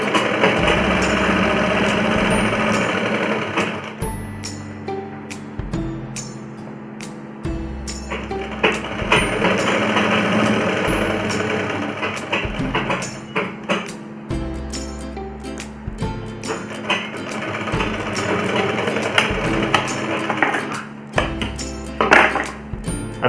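Stitching a seam on palazzo pants, a sewing machine runs in repeated bursts of rhythmic mechanical clatter with brief stops between runs, loud and close, with no voices.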